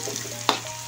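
Bitter melon stir-fried with palm sugar in a pan, a close, constant sizzle with a single sharp scrape of the spatula partway through, no voices.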